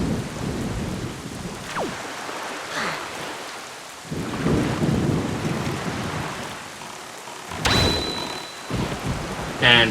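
Steady night rainfall in The Legend of Zelda: The Wind Waker HD, a dense hiss of rain on surfaces throughout with rumbles of thunder and a sharp bright crack near the end, no talk over it.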